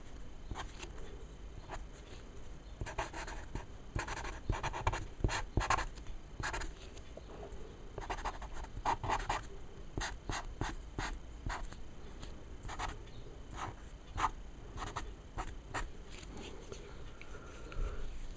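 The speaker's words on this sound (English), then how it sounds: "So we can see the Carnage drawing coming together now." Pencil drawing and shading a Carnage figure on paper, with rapid scratchy strokes repeating in irregular bursts throughout, close and fairly soft.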